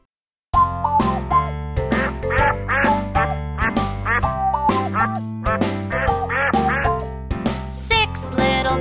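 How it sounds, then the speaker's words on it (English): Duck quacking in a children's animal song, a run of loud, bright quacks in a bouncy rhythm, repeated many times over a musical backing. "he led the others with a quack, quack, quack"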